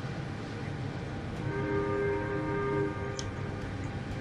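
A ship's horn sounds in the naval combat game World of Warships Legends, where a German T-61 destroyer is in battle: a steady, sustained horn note lasts about a second and a half over a constant low engine-and-sea rumble.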